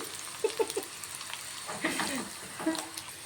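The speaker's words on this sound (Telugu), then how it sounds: "ఇప్పుడైతే ఇవంతా పోపు ఫ్రై అయిపోయింది." Soft sizzling and popping of tempering spices in hot oil, fairly quiet and close, with a few sharp crackles scattered through.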